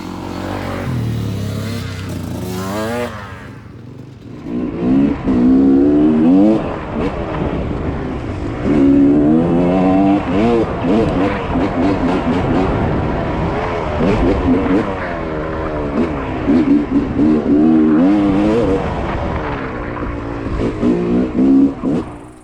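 A Yamaha YZ250 two-stroke dirt bike rides an off-road trail, its engine rising and falling through loud revs and gear changes, close by, with some wind and brief talk mixed in.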